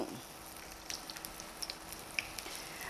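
Buttermilk punugulu fritters fry in hot oil with a steady, low sizzle and faint scattered pops, close but quiet, with no talking over it.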